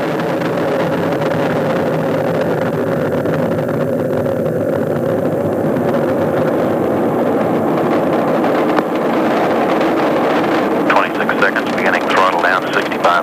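Space Shuttle Atlantis lifting off on mission STS-51J in 1985, a steady, heavy rocket roar heard from a distance, with launch commentary over it and a crackling edge near the end.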